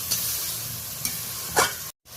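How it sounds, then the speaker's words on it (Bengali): Spice paste for a koi fish oil curry is stir-fried in a pan, a continuous close sizzle punctuated by three brisk scraping strokes of a spatula before a sudden cut. "এবার ভালো করে মশলাটা কষিয়ে নেব"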